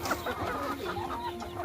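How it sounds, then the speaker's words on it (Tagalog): Chickens cluck softly nearby in short, uneven bursts over a low background hum. "Ang cute ng mga manok."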